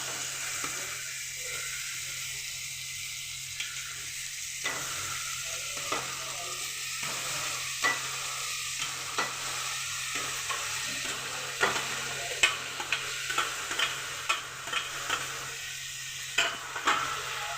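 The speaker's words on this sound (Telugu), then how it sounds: "ఇప్పుడైతే టమాటాలు వేసి ఉడకబెట్టాలి." Tomatoes frying in a pan for a tomato moong dal curry, a steady close sizzle with repeated scraping stirs and no talking.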